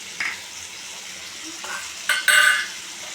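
Potatoes and onions cooking in a pan while being stirred, giving soft scraping and quiet sizzling with a few louder clatters of the utensil toward the end.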